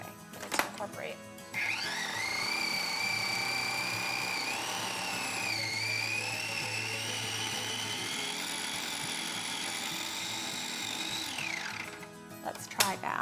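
A food processor pulses a pistachio and date mixture in one long continuous run, a loud close whirring whine that rises and dips as the blade churns the sticky chunks, with brief clatter at the start and end.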